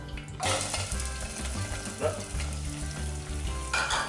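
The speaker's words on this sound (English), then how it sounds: "we're going to saute some onions, and we'll wait till the onions are nice and cooked, translucent" Onions sauté in olive oil in a pot, making a steady close sizzle and frying hiss, with a few soft stirring and utensil clinks. No one speaks.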